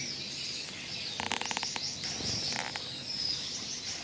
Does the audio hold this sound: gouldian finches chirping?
yes